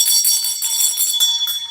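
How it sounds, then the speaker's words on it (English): A bell rings loud and near with a bright, shimmering metallic tone that sustains, with several quick repeated strikes rolling over the lingering ring. "Let's ring the bell."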